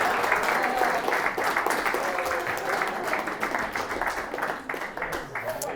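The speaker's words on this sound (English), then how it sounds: "So give him a round of applause." Wedding guests give a round of applause, a broad, continuous wash of clapping with crowd murmur and voices mixed in, staying level before thinning slightly near the end.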